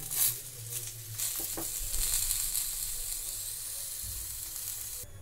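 A flour and potato roll fries in oil on a pan, giving a steady close sizzle with soft crackles and a few brief scraping sounds.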